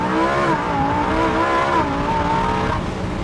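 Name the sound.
car launch acceleration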